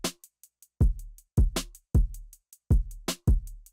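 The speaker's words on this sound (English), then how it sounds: "So I just took a few sounds from my drum kit," Basic trap drum pattern from a drum kit: deep booming kicks with long low tails, sharp snares or claps, and light ticking hi-hats in a steady loop, loud and alone with no voices.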